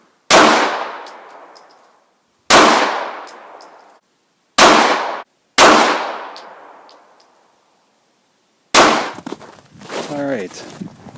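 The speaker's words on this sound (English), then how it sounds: "I'm going to get cocky and try 5 to the head since I'm shooting pretty well with the XD today" Springfield XD 9mm pistol fired at targets on a range, with four loud single shots spaced about a second or two apart, each ringing out and fading, followed by a burst of clattering noise.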